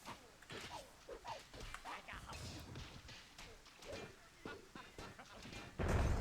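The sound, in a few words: explosions in video game Myth II Soulblighter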